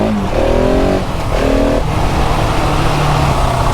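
KTM 690 SMC R single-cylinder motorcycle pulling away and accelerating through a couple of gear changes, loud and close with a throaty rising engine note.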